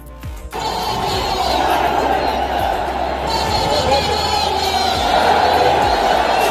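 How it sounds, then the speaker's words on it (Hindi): A large rally crowd gathered for Chandrashekhar Azad in Delhi, a loud continuous roar of voices and cheering that fills the whole stretch, close and dense with babble throughout. "चंद्रशेखर आजाद के एक बुलावे पर आई भीड़ बता रही है"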